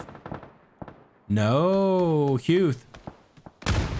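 A frag grenade explodes in the battle-royale game PUBG during an esports match: a single loud, sharp burst near the end follows excited commentator speech.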